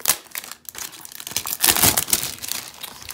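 Packaging for a Nintendo 2DS game being torn and unwrapped, with close, continuous crinkling and tearing of plastic and card that swells in the middle of the stretch, no voice.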